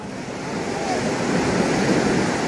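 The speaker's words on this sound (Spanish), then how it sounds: "Está tranquilita la playa." Calm sea waves wash onto Icacos beach in Acapulco, a steady broad surf rush with light wind, building slightly louder toward the end.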